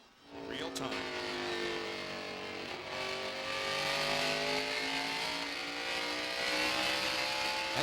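NASCAR stock cars roar around the track at the 1998 Pontiac Excitement 400, a steady loud engine drone with layered revving tones rising and falling throughout, under continuous commentary.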